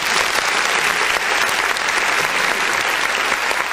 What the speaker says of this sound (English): shall we put up a round of applause to Sibeso Kumwenda